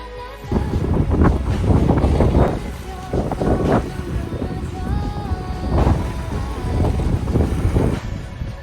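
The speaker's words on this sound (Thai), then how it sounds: "ลมแรงมาก" Strong seaside wind in St. Tropez, France roars and buffets the microphone in steady gusts while people talk over it.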